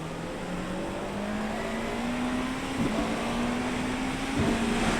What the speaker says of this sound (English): The Porsche 963 at the Nürburgring in the wet